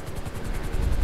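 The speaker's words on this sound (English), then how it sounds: "My helicopter's faster than that plane." A helicopter flying in GTA V, its rotor thudding in a loud, steady, rapid pulse with a deep engine drone underneath, close and continuous.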